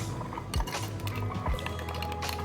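A spoon stirs yogurt with black pepper and spices for raita in a bowl, giving a few clinks against the side and soft scraping under steady background hum, with no voices.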